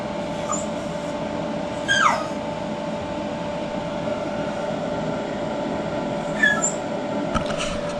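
A dog gives two brief high whimpers or yips while chasing reflections and shadows at an off-grid solar installation in France, set against a steady, loud background hum.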